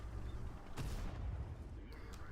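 A tank gun firing in World of Tanks: one sharp, heavy blast followed by a fainter second crack, over a continuous rumbling game background.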